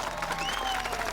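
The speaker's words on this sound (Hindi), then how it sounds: "ताली बजा रहे लोग।" A crowd of people claps together in a steady, dense burst of applause, fairly close and loud, with a few voices mixed in.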